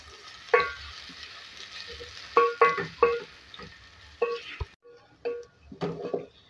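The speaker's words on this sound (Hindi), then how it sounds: "अब इसको हम गोल्डन फ्राई करेंगे।" Medium onions sizzling in hot oil while being fried golden, a soft, steady crackle broken by intermittent clinks and scrapes of a utensil stirring against the pan.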